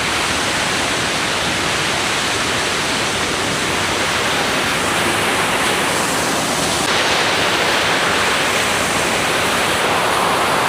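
Chocolate-brown water rushes through an irrigation dam in Cavite in a loud, constant roar that fills the whole stretch without a break.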